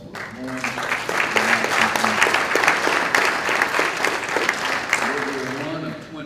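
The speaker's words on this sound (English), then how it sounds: "Give Kevin and Chief Porter a round of applause for more." Audience applause at a workforce program event, a dense sustained burst of clapping that swells and holds for several seconds, with a speaker's voice at the start and again as it fades.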